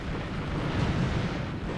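An explosion in the Ratchet & Clank video game, a loud sustained low rumbling roar that holds steady for about two seconds with no talk over it.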